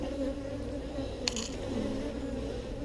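Honeybees hum steadily at an open hive in Texas, a dense low drone of many wings with one brief click partway through, close and continuous with no one talking.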